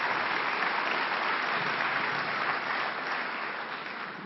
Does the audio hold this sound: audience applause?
yes